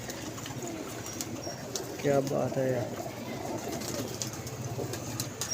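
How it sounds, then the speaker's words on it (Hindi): Pigeons coo in a loft where a trapper is catching birds, a short burst of soft cooing near the middle over steady background hiss while someone speaks briefly. "कबूतर बड़ा बड़ा मज़ेदार आ रहा है आज।"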